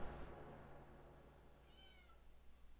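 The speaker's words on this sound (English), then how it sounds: "my cat is crying at the door" A pet cat cries at a door, one faint, short meow rising briefly over a low steady room hum, distant and quiet.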